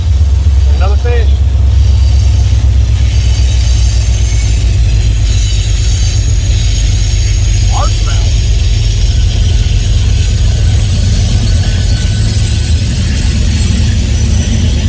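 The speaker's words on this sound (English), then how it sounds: "Here goes the choo-choo train." Low rumbling and rattling of a passing train continue steadily throughout, with someone talking intermittently over it outdoors while fishing.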